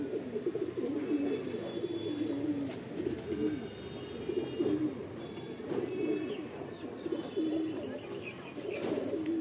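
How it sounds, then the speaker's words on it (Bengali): A female pigeon of the Mundi Sada breed coos in soft repeated low throaty phrases, close by, over a steady hiss of background noise with faint chirps from other birds. "এটা হলো একটা ফিমেল পায়রা"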